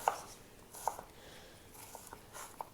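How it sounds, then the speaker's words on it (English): A knife chopping an onion on a cutting board, heard as a few soft, scattered taps, quiet and close, with no voices. "flipping it and just chopping up the whole thing"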